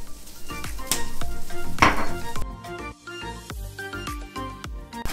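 Chicken burger patties sizzle in a pan with sesame oil, a steady close frying hiss under frequent sharp clinks and scrapes of utensils against the pan.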